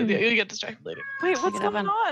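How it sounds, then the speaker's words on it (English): A pet cat meows close up, a couple of drawn-out whiny calls mixed in with people talking nearby. "That's my cat."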